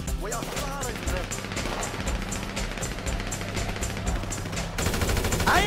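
Automatic gunfire in Grand Theft Auto V, rapid continuous machine-gun bursts rattling throughout under shouted voices, getting louder near the end.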